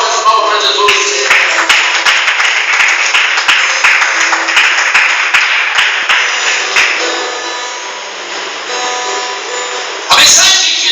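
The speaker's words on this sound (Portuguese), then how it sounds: "Dê forte as palmas para Jesus" A church congregation claps hands together in a steady, rhythmic burst of applause, loud and close, continuing for about ten seconds before cutting off abruptly.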